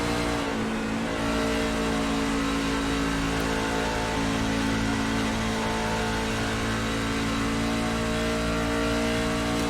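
Racing truck engine heard onboard during a night race at Kansas, a steady loud drone with sustained high revving as the truck runs past full stands, no talk.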